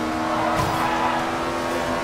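An Ariel Atom V8 race car in Forza Horizon 2 revs hard under racing play, a loud steady high-pitched engine drone with tire noise underneath and no voices.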